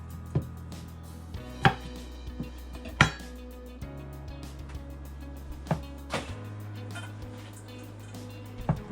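A knife chops the ends off broccoli on a cutting board, giving sharp, close single knocks spaced unevenly every second or so over a quiet, steady background.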